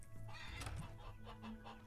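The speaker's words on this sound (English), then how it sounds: "No, you're a white chicken." A white chicken clucks in the Farmer's Dynasty farming video game, several short cackling calls over a steady background hum of farm ambience, moderately close, with no talk over it.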